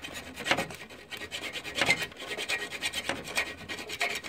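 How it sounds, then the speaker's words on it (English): A hand file rasps against bare metal on a GY6 scooter frame, cleaning paint back for a ground wire connection, in several uneven close strokes with no talking. "you want to make sure you file it really well"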